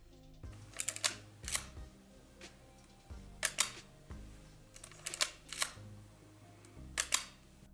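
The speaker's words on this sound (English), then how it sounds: "it has that extremely satisfying sounds with the forward advance and the shutter click" A Leica MP 0.72 black paint film camera is wound and fired about six times, each cycle a ratcheting advance-lever stroke followed by a crisp shutter click, close and quiet.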